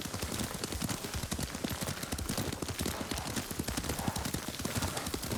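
Horse hooves clip-clop in a steady quick rhythm during riding in the Ghost of Tsushima video game, close and continuous over a dense, noisy background.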